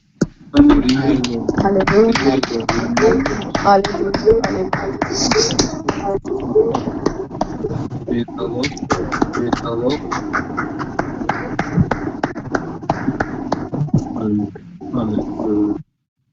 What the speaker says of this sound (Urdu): زوردار تالیاں بجائیں